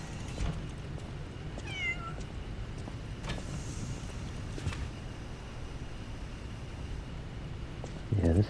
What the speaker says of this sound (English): Hey, there's a kitty cat.